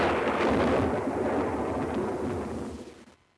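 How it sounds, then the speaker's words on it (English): Castle Thunder stock thunder effect: a loud, close, rumbling roll of thunder that starts at full strength, churns steadily for about three seconds, then tapers off and cuts to silence. "There's Castle Thunder."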